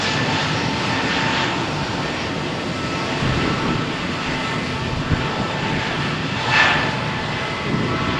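An EasyJet jet airliner powers down runway 13 at Malaga Airport on a stormy morning, its engines roaring loud and steady as it accelerates for takeoff, with a rumbling swell near the end.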